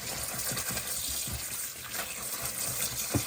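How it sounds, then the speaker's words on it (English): Cold running water pours over a silk scarf being rinsed, a steady broadband splashing gush with a few sharper slaps, close and continuous with no talking. "I'm now going to rinse with cold water"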